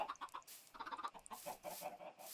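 Blocky chicken in a sandbox building game, giving several quick clucks in a short run, close and fairly faint, with no talking over them.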